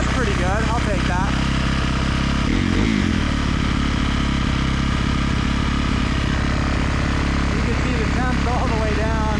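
EFI 450 dirt bike engine running steadily after a cold start, a loud, continuous close-up idle with mechanical clatter while someone talks over it.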